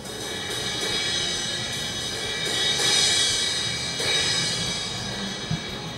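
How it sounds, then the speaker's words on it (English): A cymbal rings steadily after being struck, fitted with a standard washer at a Musikmesse trade fair, giving a dense, bright, sustained shimmer with a few soft swells over about six seconds. "and then this is the sound of this cymbal"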